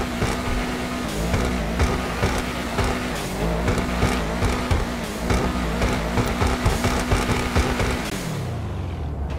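Obey Tailgater S sports car in GTA Online, its exhaust droning steadily with a held engine tone, bursts of revving and crackle, then the note dropping away as it backs off near the end.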